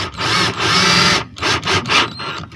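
A power drill drives screws into a double-track drawer slide rail, whirring loudly and close in several bursts of varying length separated by short pauses.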